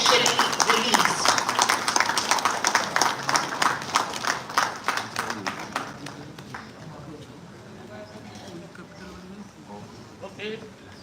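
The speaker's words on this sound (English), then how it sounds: "Please, a warm round of applause as the proceeding book is officially released." An audience at a college event applauds as a book is released, brisk dense clapping that starts strong and gradually thins and fades over several seconds, with faint murmuring underneath near the end.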